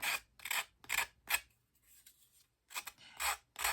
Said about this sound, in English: scrape off that excess piece of paper because you don't need that corner part on there